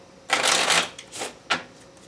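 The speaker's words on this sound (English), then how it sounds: "So we're going to shuffle this deck." A deck of board game cards being shuffled up close, two quick riffling bursts with a short pause between them, crisp and papery, no voices.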